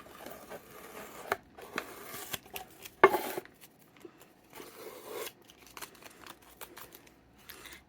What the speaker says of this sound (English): So just trying to peel off all the stickers.